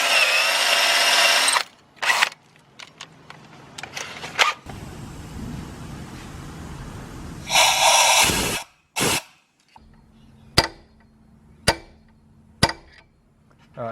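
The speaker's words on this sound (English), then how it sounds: "I might have to drill the head bolt hole out a little bit" A power drill bores out a head bolt hole in an engine cylinder head, running in loud bursts of a few seconds each, broken by pauses and sharp metallic knocks, close by.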